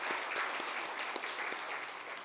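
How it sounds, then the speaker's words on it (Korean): A church congregation claps loudly during a Sunday worship service, a dense, steady wash of applause from many hands filling the sanctuary without a pause. "하나님께 크게 영광의 박수를 올리겠습니다"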